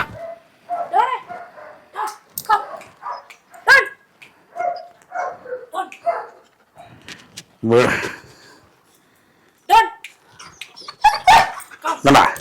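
Short, sharp barks and yips from an Indian native dog come in scattered bursts, mixed with a person talking nearby, during dog training.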